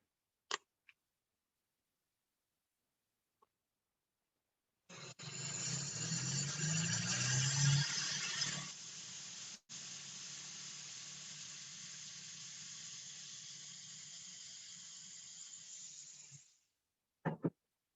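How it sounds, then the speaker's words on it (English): Electrostatic sprayer misting disinfectant in a steady, loud hiss that runs unbroken for about eleven seconds, with a brief break near the middle, preceded by a few faint clicks and followed by short taps. "now it's electrostatic sprayer. Okay, so I will spray to the front side again."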